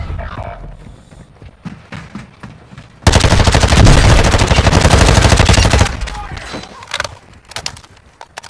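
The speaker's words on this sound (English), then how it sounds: "there's a dude somewhere and shooting at my teammate" Dense automatic gunfire from a video game firefight hammers for about three seconds, loud and rapid, then breaks into scattered shots; voices are also heard around the burst.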